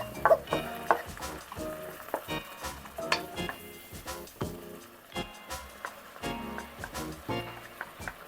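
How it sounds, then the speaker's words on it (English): Green beans cook in a wok with stock, a steady soft sizzle and bubbling broken by stirring scrapes and clinks of a utensil against the pan, close and moderate in level. "we allow that to cook and get rid of some of that stock, making the beans a little more tender"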